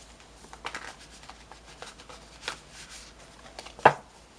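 A Modern Witch Tarot deck is shuffled by hand: soft, rapid papery riffles and flicks, faint and close, with one sharper card snap near the end.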